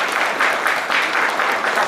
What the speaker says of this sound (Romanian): din partea voastră aplauze.